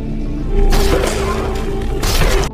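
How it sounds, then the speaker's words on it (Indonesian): A house explodes in an action film, heavy rumbling booms and crashing debris swelling in two loud bursts with dense low roar between them. "sebelum rumah itu meledak"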